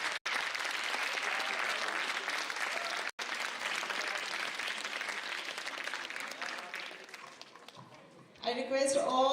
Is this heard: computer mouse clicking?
no